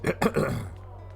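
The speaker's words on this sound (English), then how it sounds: "I had to clear my throat sometimes" A man clears his throat a few times in quick succession, close to the microphone, with the harsh rasps tapering off into quiet.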